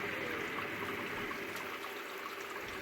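Hot sparge water pouring steadily into a home brewing kettle on an electric brewing system, a dense continuous rushing stream that stays even and close throughout.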